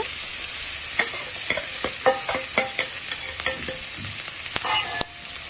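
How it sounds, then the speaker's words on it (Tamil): Broad beans stir-fried in a pan for poriyal, a constant bright sizzle broken by repeated scraping and clinking stirring strokes of a utensil against the pan, close and without any talk. "அவரைக்காய் போட்ட பிறகு கொஞ்சம் நல்லா கிளறி விடுங்க"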